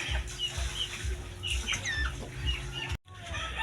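A newly acquired pure-bred chicken pullet clucks in short repeated calls over steady low background hum, with brief chirps from other birds nearby and a momentary dropout near the end.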